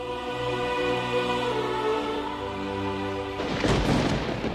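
Rolling thunder ahead of rain rumbles beneath a sustained musical score, then a louder, broad crash bursts in near the end; no one speaks.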